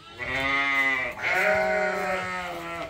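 A sheep close by lets out two long, loud bleats in a row on a farm where newborn lambs are kept, with no voices heard.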